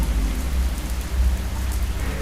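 Heavy rain pours in a dense, continuous hiss of drops with a low rumbling undertone, steady and close throughout.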